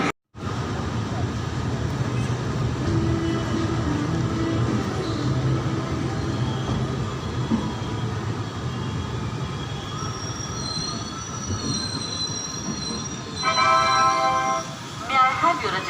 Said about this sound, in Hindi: और ये ट्रेन 45 मिनट लेट आई है